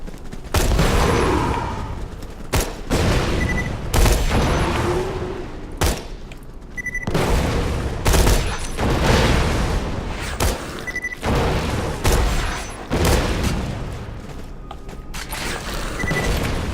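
Bursts of heavy gunfire from the Hulk gun in Borderlands 2, loud rapid volleys repeating in clusters about every couple of seconds, with short gaps between them and no talk.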